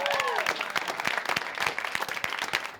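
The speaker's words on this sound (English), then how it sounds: "Give yourselves a round of applause." Live audience at a comedy podcast taping applauds in a steady, dense burst of clapping; a voice speaks briefly at the very start.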